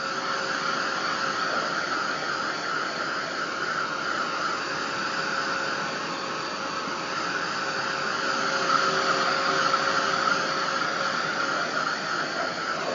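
Heat tool blowing hot air to set waterproof ink on an art journal page, a steady, close whirring hiss that runs unbroken throughout, no talking.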